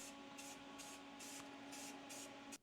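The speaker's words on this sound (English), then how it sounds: "I'm going to hit it now with some black spray paint" Black spray paint hisses from an aerosol can onto aluminum shelf straps in a steady series of short, close bursts with brief gaps between them.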